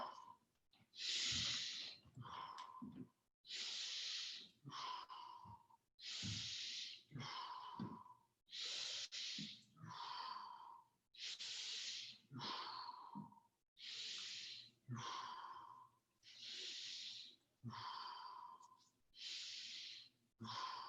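People breathe rhythmically during an exercise session, with a steady series of strong exhales and sighing breaths repeating roughly every second, close and fairly faint, with no talk.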